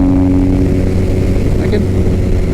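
A Harley or Triumph motorcycle cruising at around 80 mph, its engine a loud, steady drone under heavy wind rush, holding an even pitch from start to finish.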